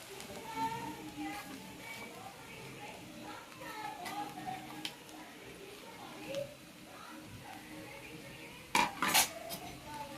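A spoon clinks and scrapes against a pan while tomatoes are stirred for chowmein, with a louder metallic clatter near the end and voices talking faintly in the background.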